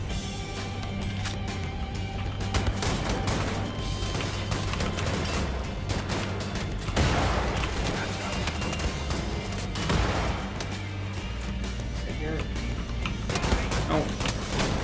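Repeated heavy blasts of shotgun fire ring out in the video game Wolfenstein, loud booming shots arriving in clusters over a continuous dense backdrop of game noise.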